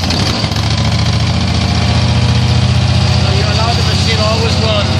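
The engine of an Amtex Marine 4047 APO pressure washer runs at a loud, steady idle with a constant low rumble and vibration throughout, and a voice talks over it.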